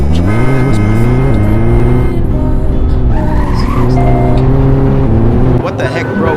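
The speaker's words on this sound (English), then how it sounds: "Yo, I had to slam on my brakes." A new car brakes hard on a road, tires skidding with a rising squeal over a loud, continuous engine drone that holds steady for several seconds, close to the listener.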